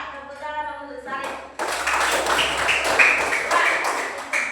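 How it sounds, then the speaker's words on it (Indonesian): A classroom of pupils clapping their hands together in a broad, sustained burst of applause that follows a teacher's voice, loud and dense, continuing for several seconds. "Iya, tepuk tangan untuk sari"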